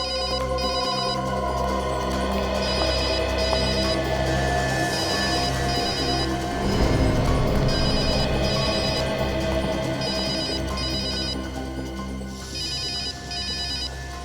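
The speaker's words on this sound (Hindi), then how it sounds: "फोन कहां बज रहा है?" A telephone keeps ringing in bursts of bright electronic trills, steady and close, over a low droning background score in a crime-investigation scene, with no one speaking.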